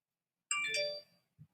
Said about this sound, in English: Phone beeping?